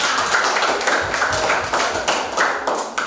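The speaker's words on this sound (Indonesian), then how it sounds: "sekali lagi coba berikan tepuk tangan yang meriah buat kelompok 4" Students in a classroom clap for a group of classmates, a lively burst of many close hands with uneven, choppy rhythm and slight swells, with no voices over it.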